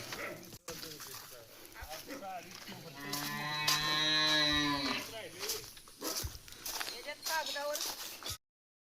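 An ox of a bullock cart arriving at a farm field gives a long, loud moo, close by, with someone talking before and after it.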